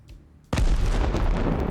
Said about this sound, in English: Explosions, fire, parachute flares, smoke effects